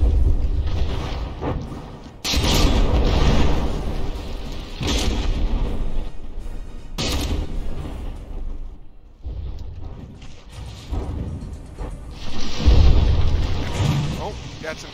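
Battleship guns firing and shells exploding in the naval combat game From the Depths, a series of heavy booming blasts with rumbling tails, several loud bursts spaced seconds apart, with someone talking over parts of it.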